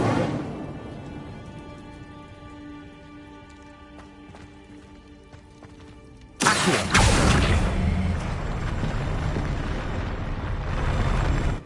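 Incendio fire spell cast in the Hogwarts Legacy video game: a sudden loud whooshing burst of roaring flame that sustains for several seconds over a quieter game background.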